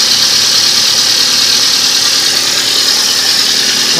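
Compressor pulling vapor from a tank in a low-temperature waste heat generation setup, running as a loud, steady mechanical hum with a constant hiss, close and unbroken throughout.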